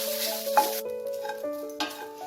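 Grated fresh coconut is stirred while dry roasting in a pan, giving soft scraping with a couple of sharper knocks, faint beneath steady background music.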